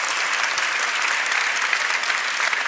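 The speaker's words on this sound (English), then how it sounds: "Round of applause for Eric Edmeades." An audience gives sustained, even applause after a talk, many hands clapping in a dense continuous patter from start to finish with no voices.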